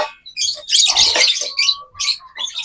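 A caged pet bird being tamed gives a string of close, bright chirps and short tweets, some with clear sustained tones, in quick irregular bursts with no talking.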